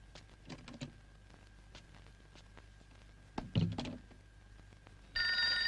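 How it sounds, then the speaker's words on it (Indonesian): A telephone rings in an indoor scene from a 1991 Indonesian film. A steady electronic ring tone starts near the end, after a few knocks and thunks, and no one speaks. "Ada telepon"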